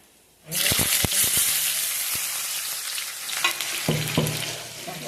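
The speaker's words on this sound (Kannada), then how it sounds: "ಉಳ್ಳಾಗಡ್ಡಿ ಹಾಕ್ತೀನಿ ನೋಡಿ." Onion hits hot oil already holding mustard seeds and cumin, bursting into a loud, sudden sizzle that holds as a steady close frying hiss with a few spoon knocks and scrapes against the pan.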